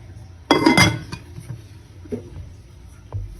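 A lid goes onto a cooking pot of tinola chicken soup with a sharp metallic clatter and ringing clink, followed by a few fainter knocks and taps as it settles.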